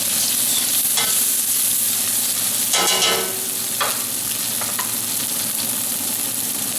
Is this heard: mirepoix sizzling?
yes